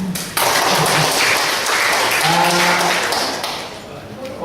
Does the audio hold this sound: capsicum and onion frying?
no